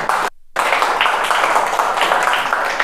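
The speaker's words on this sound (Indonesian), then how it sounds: "tepuk tangan buat Pak Wari ya." An audience at a business seminar claps for Pak Wari. The steady group applause breaks off abruptly for a moment near the start, then carries on evenly at moderate loudness.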